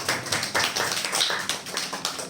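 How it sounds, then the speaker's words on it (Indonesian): A small group clapping together during a teacher training reflection session, the claps dense and steady, fairly close, with no voices over them. "tepuk tangan untuk jawaban kita bersama-sama"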